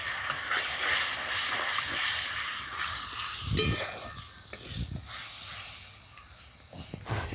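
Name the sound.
milk added to fried spice masala, sizzling and stirring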